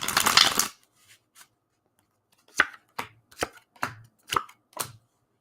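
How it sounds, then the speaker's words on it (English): Tarot-style cards are shuffled and laid out. A dense riffle of card flutter comes first, then a string of six or so crisp, separate slaps and flicks as single cards land close by, with silence in between. "Let's just throw some cards down for that."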